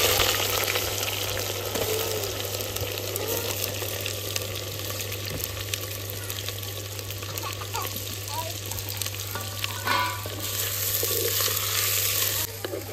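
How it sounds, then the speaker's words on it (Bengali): Onions going into hot oil in a clay pot, part of cooking goat meat, sizzling and frying steadily throughout under a constant low hum, with light stirring noises and faint water sounds close by. "আমার তেল হয়ে গেছে। এবার আমি পেঁয়াজটা দিয়ে দেবো।"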